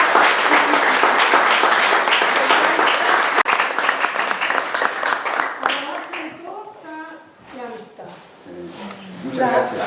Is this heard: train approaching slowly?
no